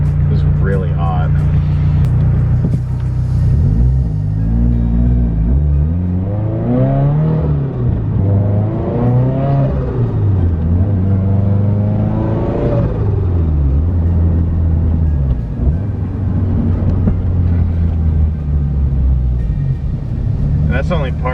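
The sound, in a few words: car engine revving at partial throttle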